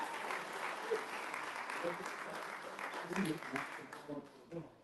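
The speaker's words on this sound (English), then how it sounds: "give him a big round of applause" Audience clapping at a Workers Party of Britain political broadcast, a steady dense round of applause filling the room with voices mixed in, swelling near the end.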